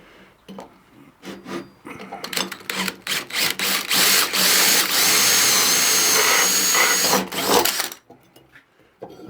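A power tool drives 10mm bolts into a molding box made for casting metal: several short whirring bursts, then one long steady grinding run, then a few more short bursts, close and loud, with no talk.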